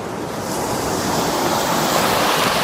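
River Thames water washing against the muddy foreshore at the tide's edge, a steady, loud, wind-buffeted rush of lapping water with no pauses.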